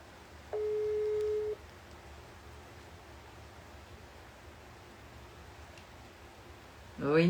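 A single long ringback tone sounds on a phone call to a priest, a steady hum of about a second over quiet room noise, followed by silence and then a voice starting at the end.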